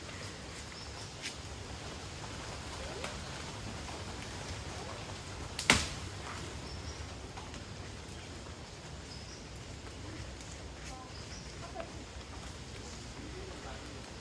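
Steady rain falls outdoors in the Konkan countryside: a soft, continuous hiss with one sharp click near the middle, and voices talk faintly throughout.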